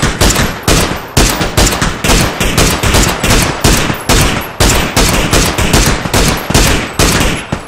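Loud, close gunfire comes in rapid rhythmic bursts of repeated shots in a first-person shooter game, with no voices over it.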